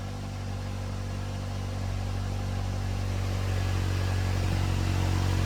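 A Hornet 2.0L car engine fitted with an MPX blow off valve plate idles steadily up close, a low constant hum with a faint gradual rise in level and no one speaking.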